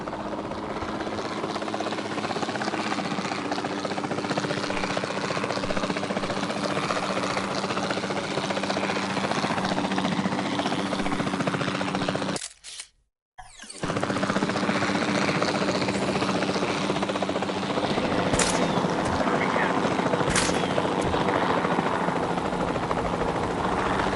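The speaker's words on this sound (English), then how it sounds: "Then the sensible thing is to take a capture team helicopter." A capture team helicopter in Jurassic World Evolution 2 flies steadily overhead, its rotor drone loud and continuous for the whole stretch, broken only by a momentary dropout partway through.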